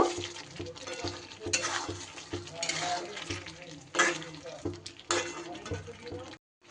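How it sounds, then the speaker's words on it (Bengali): Chicken being stirred with ground roasted spices in a metal pan, a spoon scraping and clattering in uneven strokes over a low sizzle, close and fairly loud, with the clatter stopping near the end. "ভালো করে মিশিয়ে নেব।"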